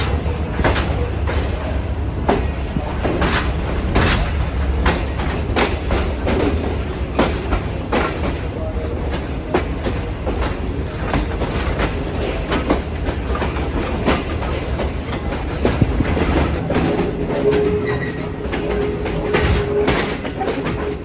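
Green Line Express train running steadily on the tracks while changing track, with a continuous low rumble and repeated clickety-clack wheel beats over the joints, close and loud throughout.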